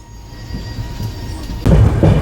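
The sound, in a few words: train departing from station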